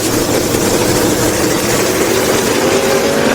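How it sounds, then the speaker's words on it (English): Twin-turbo Camaro drag racing cars launching off the starting line, a loud steady roar of engines with dense broadband noise and a low rumble that holds constant throughout. "Off the starting line they go."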